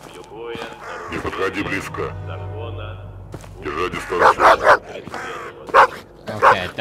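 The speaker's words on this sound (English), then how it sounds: "Okay, that's not a friendly dog." A hostile dog in the video game VLADiK BRUTAL barks and yips repeatedly in sharp bursts, growing louder toward the end, mixed with game sounds and someone talking.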